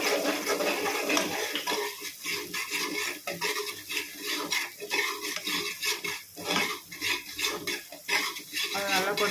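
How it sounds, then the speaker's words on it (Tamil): Two eggs scrambling in a pan for restaurant-style fried rice, a utensil stirring and scraping steadily with clinks against the metal over a soft, continuous sizzle, fairly close. "முட்டை அந்த பொரிஞ்சு வருது பாருங்கள்"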